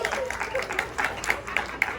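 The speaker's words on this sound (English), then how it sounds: "Oh, they're clapping again." An audience at a high school poetry café in Robersonville, North Carolina, claps in a steady patter of sharp hand claps, with a voice talking over it.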